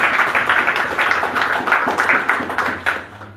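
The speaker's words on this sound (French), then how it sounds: "Applaudissez pour voir l'homme maintenant." An audience at a church sermon applauding, a steady patter of many hands clapping together at close-to-moderate distance, fading slightly toward the end.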